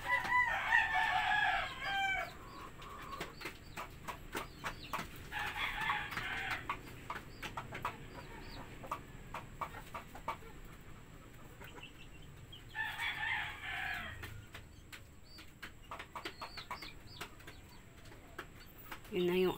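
Rhode Island Red chickens cluck and a rooster crows in bursts, with one crow near the start and more repeated calls later, all fairly close over a quiet farmyard background.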